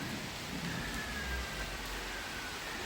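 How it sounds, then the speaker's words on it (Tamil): Heavy rain pours steadily during a storm in Chennai, a dense continuous hiss with low rumbling underneath, loud and unbroken throughout with no voices. "திருப்பி ஆனால் மழை வந்துகிட்டே இருக்கு."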